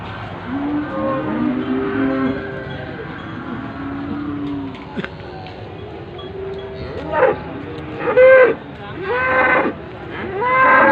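Cattle at a livestock market before Eid al-Adha moo repeatedly, several long low calls overlapping at moderate distance, with a few louder, closer bellows toward the end.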